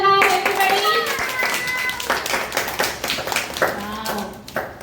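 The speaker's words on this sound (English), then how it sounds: "Clap hands for her, everybody." Children and adults clap hands at a school Independence Day event, a brisk, irregular patter close by. Children's voices chatter over and between the claps.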